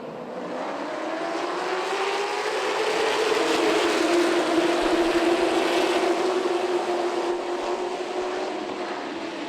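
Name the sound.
race cars starting at Myrtle Beach Speedway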